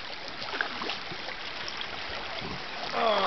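River rapids rush and gurgle around someone tubing, a steady close wash of moving water with a brief louder splash near the end.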